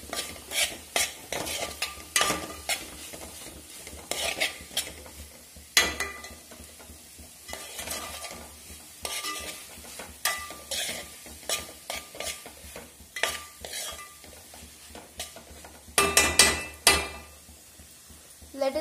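Tomato rice being stirred in a pan: repeated scraping, clinking strokes of a utensil against metal come in uneven bursts over a soft background sizzle, close and fairly loud, with no talking.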